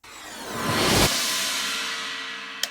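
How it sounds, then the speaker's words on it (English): A reversed swell rising into a sharp cutoff, then a descending string-like drop that fades out, ending with a small click. "We're also using some risers, some reversed effects, some string drops and stuff that sound like this"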